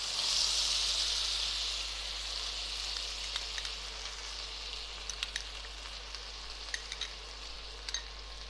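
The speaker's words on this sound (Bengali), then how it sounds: "আর মশলাটা আমি কষিয়ে নেব ততক্ষণ যতক্ষণ না মশলা থেকে তেল আলাদা হচ্ছে।" Spice paste frying in oil for an egg malai curry, a steady broad sizzle that stays loud and even throughout, with a few faint scrapes of stirring near the end.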